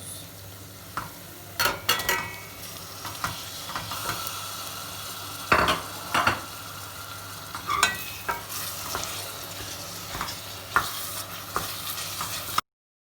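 Minced meat is stirred into sautéed peppers and onions in a hot pan, sizzling steadily up close while repeated scraping and clattering stirs break through the frying.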